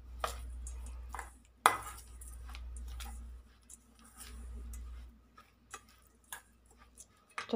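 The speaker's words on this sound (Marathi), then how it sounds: "हे मिक्स करूया।" Stuffed brinjal masala being mixed with crushed peanut powder in a bowl, soft irregular clinks and taps of a spoon against the dish, faint and close, over a low hum, with no speech.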